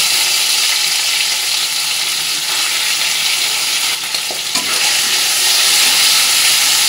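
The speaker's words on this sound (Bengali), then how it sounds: "তেলটা কিন্তু গরম হয়ে গেছে, এবার মাছগুলো ভেজে নেব।" Fish frying in hot mustard oil in a karahi, a loud continuous bright sizzle close up, briefly disturbed by a stir before the hiss resumes at full strength.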